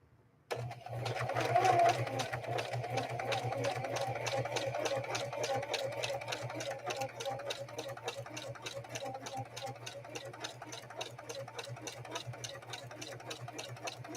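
A Singer 4411 heavy-duty sewing machine topstitches in one continuous run, its motor humming steadily beneath a fast, even needle clatter that carries on close and unbroken to the end.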